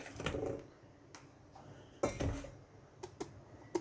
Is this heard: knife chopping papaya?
yes